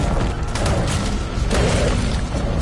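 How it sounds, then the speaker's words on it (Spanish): Rockets launched and exploding in the survival video game ARK, heard as a dense, loud barrage of booming blasts that runs without pause through the whole moment. "¿Me han lanzado cohetes?"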